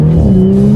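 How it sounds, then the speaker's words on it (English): A 2019 Audi S4 under hard acceleration in dynamic mode, its engine droning loud and close with a steady low tone that climbs slightly in pitch, with no talking. "let's see how quickly we can get this 2019 S4 here up to speed."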